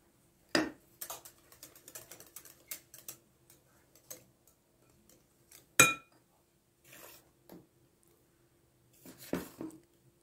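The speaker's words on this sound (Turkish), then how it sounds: "Çırpmaya devam edelim." Whisking flour into a pancake batter makes irregular light clicks and scrapes against a bowl, quiet and close, with short bursts and pauses and a couple of sharper knocks.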